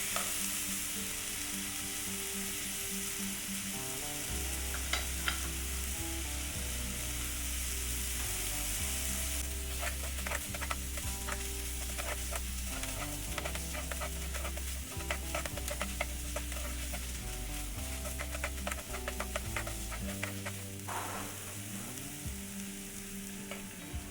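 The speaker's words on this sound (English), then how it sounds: "And then I'm going to add in the garlic as well. Just stir fry it for a couple of minutes." Minced garlic stir-fries in a pan for black pepper sauce, giving a steady close sizzle with frequent scraping and clinking of a utensil stirring through it. No one speaks.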